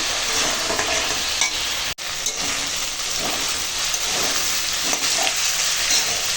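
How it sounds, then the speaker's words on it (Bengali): A spice mix of salt, turmeric and chilli powder is sautéed in a pan for a Bengali vegetable curry, giving a dense, loud, continuous sizzle with a brief dropout and steady stirring scrapes throughout. "লবণ হলুদের গুঁড়ো লঙ্কার গুঁড়ো দিয়ে এখন মশলাখানা কষাবো"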